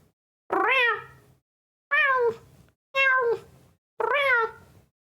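Four distinct cat meows, each about half a second to a second long, spaced evenly and loud and close, with no talking over them.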